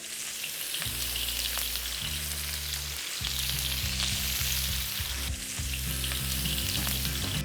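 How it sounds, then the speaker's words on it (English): Loud, steady sizzling and crackling of beef searing in a hot wok, continuous throughout, with a low hum underneath and no talking. "listen to that sizzle"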